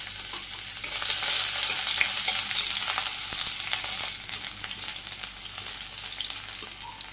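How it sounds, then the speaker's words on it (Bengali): Chopped radish and onion fry in hot oil in a wok, a bright continuous sizzle that swells loudly as the ingredients hit the pan, with occasional stirring scrapes, then eases slightly; no voices. "প্রথম মূলে ভাজি করুন।"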